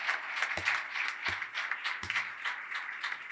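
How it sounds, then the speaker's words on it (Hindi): Church congregation clapping in praise, a faint, scattered spread of hands with a few sharper individual claps standing out in a loose rhythm, heard at a distance. "आए हम जोरदार तालियां बजाएं खुदा के जलाल के लिए।"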